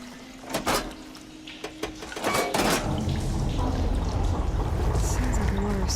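Water switching through pipes in Horizon Forbidden West: a few sharp clunks and knocks give way to a steady rushing, gurgling flow that swells and fills the space, with faint creaks over the top.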